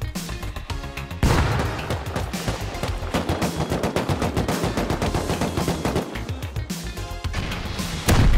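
A grenade blast in a video game hits as a sudden heavy burst, with rapid, dense in-game gunfire crackling around it and another loud impact near the end.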